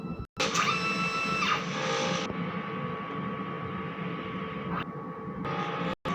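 A DTF printer whirs and hums steadily as it runs a print head cleaning cycle, with a couple of brief clicks and a shift in pitch partway through.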